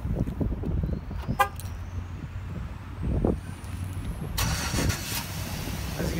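A 2010 GMC Sierra crew cab pickup's engine starts by remote, cranking and catching into a steady idle, with a short horn-like chirp and a bright burst of noise later, heard fairly close.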